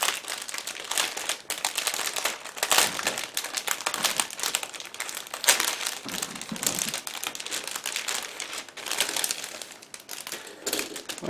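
Plastic bags holding sprues for an AMK 1/48 MiG-31BM/BSM Foxhound model kit are opened, giving continuous close crinkling and rustling that lasts throughout, with no talking.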